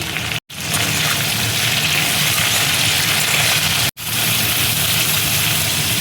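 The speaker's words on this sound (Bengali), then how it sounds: "এবার দেখো টমেটো আর ক্যাপসিকাম আমি দিয়ে দিচ্ছি।" Tomato and capsicum sizzle steadily in a hot pan, a continuous loud frying hiss with two brief dropouts near the start and middle, no talking.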